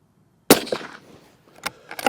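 Browning X-Bolt 2 Nordic hunting rifle with an 18.5-inch barrel fired on a deer stalk: one sharp, loud close report after brief silence, decaying quickly, followed by fainter clicks and knocks.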